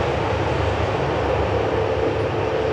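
An FEC freight train passes on a bright morning, a steady, loud broadband rumble with low mechanical drone holding evenly throughout, close by and with no voices.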